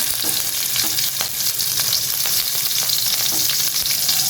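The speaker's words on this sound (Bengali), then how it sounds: "করলাটা সরষের তেল দিয়ে রান্না করব" Bitter gourd frying in mustard oil gives a loud, dense, continuous sizzle with occasional stirring scrapes, close and without any voices.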